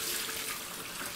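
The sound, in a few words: vegetable broth being poured through a strainer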